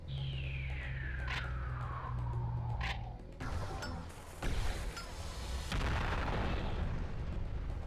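Serious Bomb going off in Serious Sam Fusion: a descending whistle with sharp pops leads into a heavy booming blast, followed by layered explosions and crashing rumble that linger to the end.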